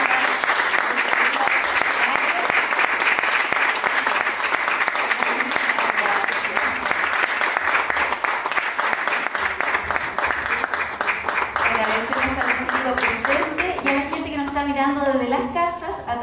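Sustained applause from a large crowd at a concert in Algarrobo, dense and steady, with some voices rising near the end as the clapping thins out.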